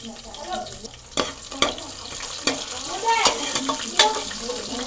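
Curry leaves, slit green chilies and ginger fry in a pan with a bright crackling sizzle, while a spoon stirs and knocks against the pan several times.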